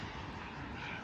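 Turbine engine of a remote-control model jet fighter at a model airfield, a steady, fairly faint broadband roar holding even throughout with no change in pitch.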